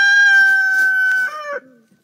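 A farmyard hen calls out with a single drawn-out, loud, close vocalization that holds steady and then drops off abruptly at the end, heard alone with no other sounds.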